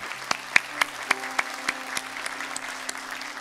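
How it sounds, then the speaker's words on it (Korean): A church congregation at a Sunday service breaks into applause, a crowd of hands clapping with a few sharp individual claps standing out, moderately loud and alone. "우리 하나님께 감사의 박수 올리겠습니다."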